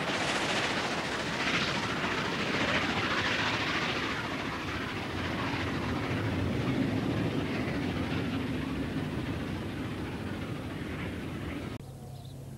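A steam locomotive hauls a heavy 1,200-ton train up a long climb, a steady loud roar and rumble with rhythmic chuffing that holds throughout and then drops suddenly near the end.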